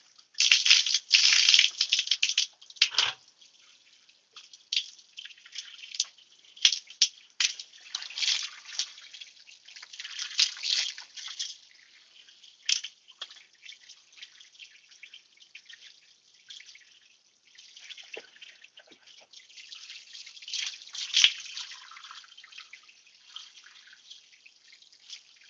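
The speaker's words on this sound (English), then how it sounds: "I'm going to go ahead and water this in." Water poured onto soil around a newly planted lime tree in a pot, heard as a long stretch of splashing, trickling and dripping in uneven bursts that fade and return, close up with no talking.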